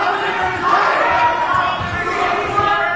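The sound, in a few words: unhappy wrestling crowd reacting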